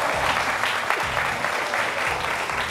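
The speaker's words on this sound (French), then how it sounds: "Et ça s'applaudit" A television game-show studio audience applauds steadily, a dense, continuous wash of clapping at even loudness throughout.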